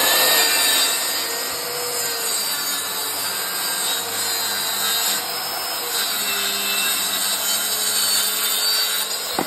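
A wooden formwork plank is cut to length by hand, a steady rasping saw stroke running continuously up close with constant loudness throughout, no voices present.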